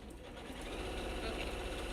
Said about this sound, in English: We're gonna sew some more with no more cranky sewing machine noises